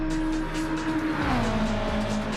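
A Subaru Impreza in the Gran Turismo 7 racing game holds a steady, loud engine tone that drops in pitch midway as it shifts or lifts, with a hint of tire noise and no talking.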